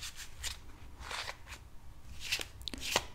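Tarot cards shuffled close up in a quiet, intimate setting: soft papery riffles and slides come in irregular bursts, with faint background hiss between them.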